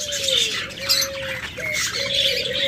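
Budgerigars squawk and chirp nearby in a busy chatter, with a drawn-out whistling call rising above the noise.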